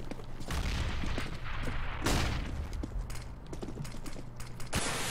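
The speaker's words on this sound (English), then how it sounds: "Grenade out." A grenade explosion bursts in Counter-Strike amid a steady background of gunfire and game noise, one heavier boom standing out midway with scattered shots continuing around it.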